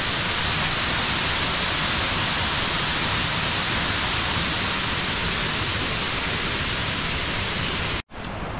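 Roaring waterfall on the Ilomska river at Vlašić, a dense, steady wash of falling water filling the whole clip up close, broken by a brief cut near the end.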